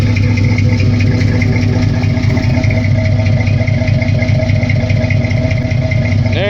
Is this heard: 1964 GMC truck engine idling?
yes